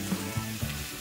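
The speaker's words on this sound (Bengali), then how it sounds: "চিচিঙ্গিটা ভাজা হতে হতে" Snake gourd fries in a pan with a close, continuous oily sizzle, broken by a few soft pops and stirring bumps over one second.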